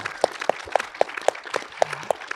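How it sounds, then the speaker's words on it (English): A few people clap slowly at a conference panel event, eight or nine evenly spaced, distinct claps over two seconds, sparse and fairly close. "please give her an applause."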